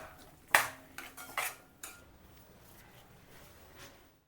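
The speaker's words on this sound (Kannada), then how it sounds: "ಚೆನ್ನಾಗಿ ಮಿಕ್ಸ್ ಮಾಡಿರಿ ಈಗ" Jaggery rice being stirred in a metal pot, a few sharp clanks and scrapes of a spoon against the pot in the first two seconds, then quieter shuffling, close and alone.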